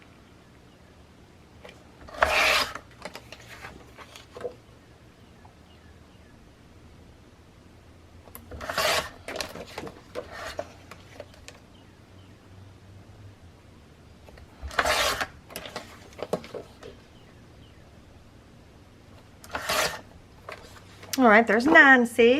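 Paper pages are trimmed in four separate bursts of short rasping cuts and rubbing with quiet pauses between, and a person speaks briefly.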